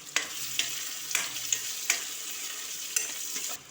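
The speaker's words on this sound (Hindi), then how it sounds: "अब इसमें कटा हुआ प्याज डाल देंगे और 2 हरी मिर्च टुकड़ा करके डाल देंगे।" Chopped onion and green chillies frying in a pan, a steady close sizzle with periodic scraping strokes of a stirring spoon.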